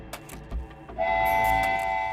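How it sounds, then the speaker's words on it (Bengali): A few clanking thumps of train wheels give way to a loud, sustained train whistle, a steady tonal blast holding to the end amid rumbling. "হঠাৎ কানে এলো ট্রেনের হুইসেলের শব্দ আর চাকার খটখট শব্দ"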